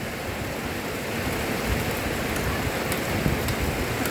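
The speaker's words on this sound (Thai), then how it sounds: "ฝนตกพี่น้องเอ้ย" Rain falls in a steady, dense hiss that is loud and continuous, with a few faint taps of drops landing close by.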